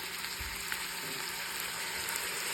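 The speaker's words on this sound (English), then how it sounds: "let it saute for just a minute or 2" Minced garlic sautés in a pan, a steady, even crackling sizzle at moderate level throughout, with faint occasional stirring and no voices.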